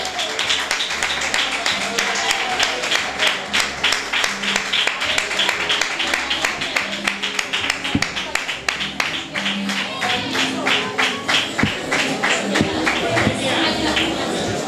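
A live audience applauds in welcome for a singer at an evening show, dense sustained clapping filling the room for the whole stretch, with crowd voices mixed underneath.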